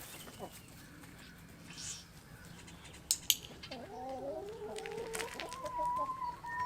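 Chickens cluck and warble softly nearby, their calls rising and falling over a quiet background with a couple of sharp taps.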